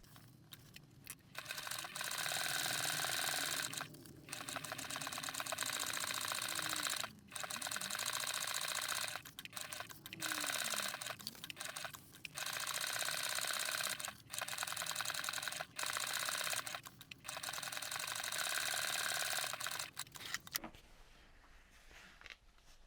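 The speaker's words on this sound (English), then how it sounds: "We are then going to go over and top stitch all the way around that curve that you've just sewn" A sewing machine top stitching around the curve of a tote-backpack bag at a 3.5 stitch length, running in steady loud bursts with brief pauses between runs, then stopping near the end.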